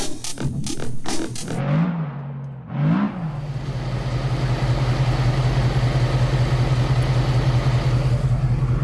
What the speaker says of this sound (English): That's the sound of the V8 on the Mustang burbling away quietly at the campsite.